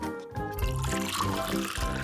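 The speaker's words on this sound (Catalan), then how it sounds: "Primer, posem una mica d'aigua dins el got." Water poured into a drinking glass for a density experiment, a short, close, steady pour over about two seconds with a rising fill tone, likely with music playing underneath.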